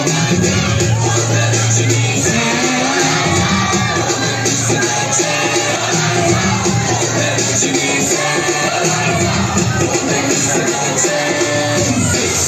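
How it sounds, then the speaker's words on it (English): A crowd at a school dance competition cheers, shouts and whoops in a loud, dense, continuous roar that fills the hall without a break. "Give them a big round of applause"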